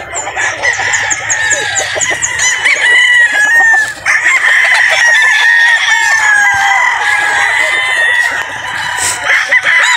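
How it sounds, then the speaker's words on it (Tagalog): Several roosters crow loudly and repeatedly, overlapping one another, with hens clucking in the background. "Madami tayong mga quality manok dito mga bossing."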